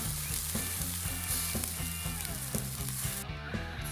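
Stuffed bratwurst sizzle on a grill with a steady, quiet crackle and spitting fat, close and without speech.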